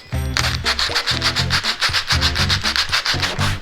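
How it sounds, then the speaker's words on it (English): Rapid, vigorous back-and-forth hand sanding of wood, a steady rasping scrape in quick even strokes, close and loud with no voices. "This is going to require some vigorous sanding."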